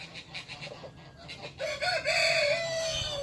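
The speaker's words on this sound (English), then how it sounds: "We got tons of game chickens all the time." Game chickens cluck briefly before a rooster lets out a loud, clear crow that swells and holds to the end, close by and dominant over quieter background clucking.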